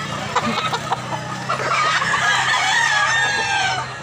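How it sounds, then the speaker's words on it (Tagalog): Chickens cluck and chatter nearby, then a rooster lets out a loud, drawn-out crow over the flock's background noise. "Big size nga mga manok, dagko mga manok."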